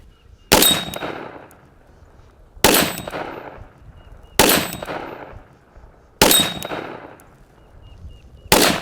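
A Glock 43X MOS pistol fires five loud, sharp shots at an even pace of about two seconds apart, each followed by a ringing outdoor echo that fades before the next.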